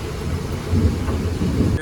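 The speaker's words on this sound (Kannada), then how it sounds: "ಸರಿ ಹೊಡಿತೈತೆ ಸಿಡ್ಲು" During a downpour on a truck route from Mahalingapura to Bengaluru, a loud, deep rumble of thunder rolls over the hiss of heavy rain, filling the whole brief moment.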